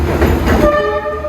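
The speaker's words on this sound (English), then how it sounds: "our train is just about to arrive" Train pulling into a station in Hue, Vietnam, in heavy rain, with a loud close rumble and then a sustained horn blast toward the end.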